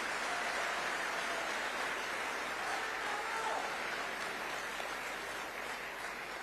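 A seated audience applauds steadily at Chief Minister Chandrababu Naidu's speech in Singapore, the dense, even clapping filling the room and tapering slightly toward the end.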